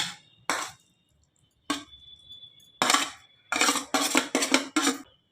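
A utensil clanks and scrapes in a bowl, mixing rui fish cutlet mixture with onion, with scattered bursts of clinking, a short pause, then a quicker run of strokes near the end, close with no speech.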